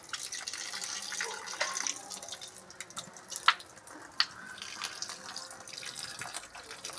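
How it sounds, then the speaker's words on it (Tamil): Water is poured onto a garden plant, making a soft, quiet splashing trickle with a few sharper drips. The sound stays fairly faint and continuous throughout. "செடிக்கு விட்றா, செடிக்கு தண்ணி விட்றா."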